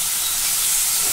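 Water hits a hot pan of oil and ground spices (turmeric, chilli, coriander, cumin), giving a steady broadband sizzle and hiss with no talk over it.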